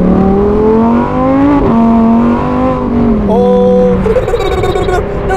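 A Lamborghini Huracan GT3 street car drives past with a loud, close engine note whose pitch climbs and shifts through gear changes, and a voice speaks briefly over it.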